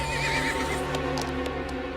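A large grey horse whinnies loudly and shakily near the start, followed by a few soft hoof clops and snorts.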